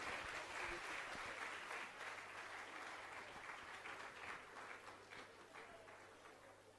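Audience applause welcomes a revered Jain monk at a religious Q&A gathering, a steady dense patter of many hands that holds for the whole stretch, moderately distant and gently fading toward the end.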